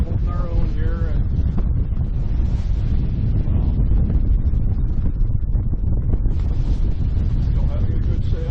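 Strong wind roars across the microphone aboard a Catalina 30 sailboat under sail, a constant heavy low rumble with buffeting gusts, close and loud, with a brief voice near the start.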